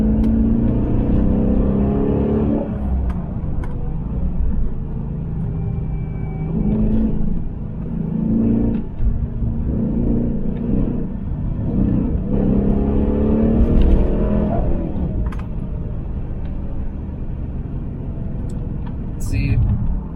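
A 2020 Dodge Challenger R/T's engine pulls hard through its mid-range on a slippery road, rising and falling in repeated surges as someone talks over the rumble.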